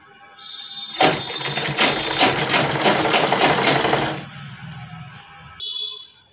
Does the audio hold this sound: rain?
no